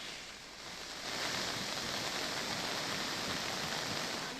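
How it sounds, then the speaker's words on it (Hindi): Heavy rain in Uttarakhand pours down steadily as an even, dense hiss that swells slightly after the first second and holds, with no voices. "अभी बारिश रुकने कहीं आसार नहीं है"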